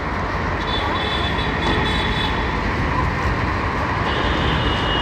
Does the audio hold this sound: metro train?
yes